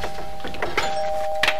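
A doorbell in a 1994 children's television show sounds a sustained two-tone ding-dong chime, fairly loud and clear, with faint clatter around it and no speech.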